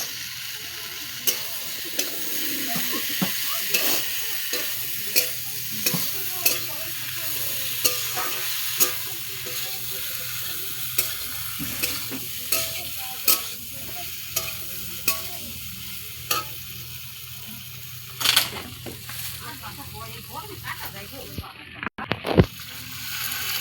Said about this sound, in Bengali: পটল আর আলুটা দিয়ে দিলাম